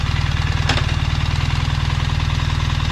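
A BMW R1300GS motorcycle with an automatic gearbox idles in gear with the brake held, giving a steady, close, rhythmic low-pitched engine pulse that stays even throughout, with a brief click partway through and no talking.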